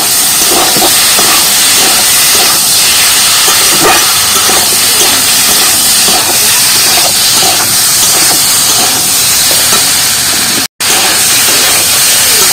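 Masoor dal and taro sauté in spices in a hot pan, giving a loud, steady sizzling hiss with faint crackles that runs unbroken throughout, briefly cut off near the end.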